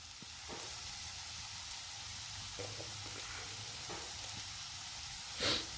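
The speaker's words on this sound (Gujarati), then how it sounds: "અને સતળાવા દો બરાબર એને ફૂલ ગેસ ઉપર." Vegetables for hot and sour soup sautéing in a pan over a full gas flame give a steady, soft sizzle with occasional faint stirring scrapes and a brief clink near the end.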